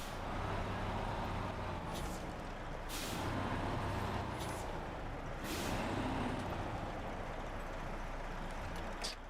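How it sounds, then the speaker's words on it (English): A truck trailer detaching in SnowRunner, with a steady loud rumble of an idling heavy engine and several short hissing air-brake releases spread across it. "Detached trailer."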